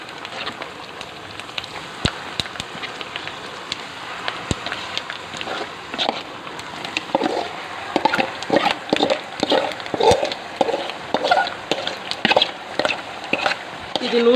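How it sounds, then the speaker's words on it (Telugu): Tomato and red chilli chutney stirred into hot tempering oil with curry leaves and asafoetida, a steady crackling sizzle with spoon scrapes that grows louder and more rhythmic in the second half. "ఇప్పుడు ఈ పోపులో ఈ పచ్చడి వేసేసుకుందాం"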